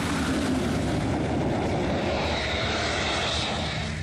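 A Sukhoi Su-57 fighter jet's engine produces a loud, steady, broadband roar that holds constant throughout, with no voices.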